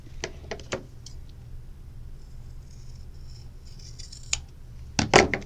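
Scissors trimming fabric for a bag liner, a few quick crisp snips at the start and a louder cluster of cuts near the end, close and clear over a low steady hum.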